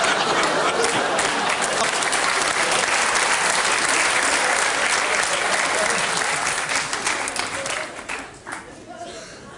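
A studio audience at a comedy sketch show applauds loudly and steadily, the clapping thinning out and fading toward the end, with voices talking underneath.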